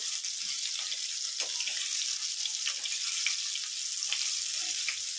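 Baby corn frying in hot oil, giving a dense, steady close sizzle with small crackles and pops throughout.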